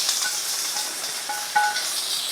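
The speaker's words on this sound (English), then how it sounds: "Right to that same pan, in the same juices, we're going to add in our vegetables" Vegetables hitting a hot pan with leftover meat juices and sautéing, giving a steady bright sizzle with a few faint clinks of a utensil stirring, close up and without talk.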